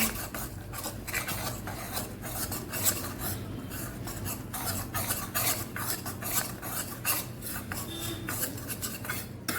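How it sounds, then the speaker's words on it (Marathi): Semolina and gram flour roasting to brown in a pan, stirred continuously: rhythmic, gritty scraping and rubbing strokes of a spoon against the metal, close and steady, with no voices. "असं छान ब्राऊन ब्राऊन भाजून घेतलं म्हणजे बेसन आणि रवा छान शिजून जातो"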